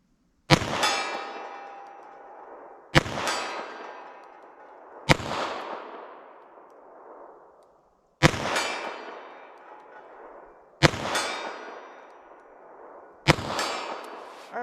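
Six sharp metallic clangs of .32 S&W Long pistol bullets striking steel targets, spaced about two seconds apart, each ringing out and decaying before the next shot.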